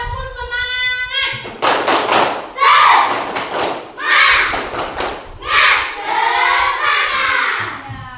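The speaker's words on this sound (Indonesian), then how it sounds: "Tepuk semangat." A group performing the Indonesian 'tepuk semangat' spirit clapping routine in a classroom lesson, with loud rhythmic claps and chanted voices in bursts; a sung melody leads in at the start.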